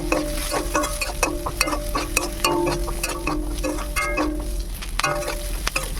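Chopped capsicum and onion fry in a pan with spice paste while the mix is stirred, giving a continuous close sizzle dotted with repeated scraping and tapping of a utensil against the pan.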